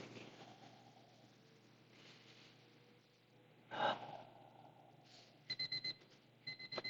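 During a forward-fold stretch, slow, deep breaths come as soft airy swells. One sharper inhale stands out, and faint electronic beeping follows near the end, all quiet and close with no talking.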